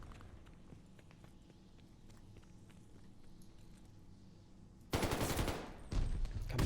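A Vargo-S gun fires in Call of Duty: Vanguard on the Desolation map in loud rapid bursts near the end, after a stretch of quiet footsteps and faint movement.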